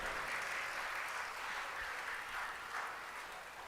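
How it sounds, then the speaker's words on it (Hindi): Indoor audience at a devotional talk clapping together, a soft steady patter of applause that swells slightly and fades toward the end. "आज तो तालियां कुछ ज्यादा जोर से नहीं बजा रहे हैं आप।"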